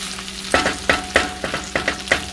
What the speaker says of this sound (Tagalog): So, gisa-gisa lang muna natin guys.